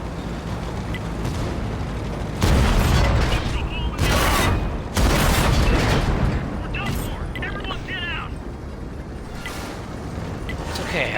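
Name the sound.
T57 Heavy tank gunfire in a tank video game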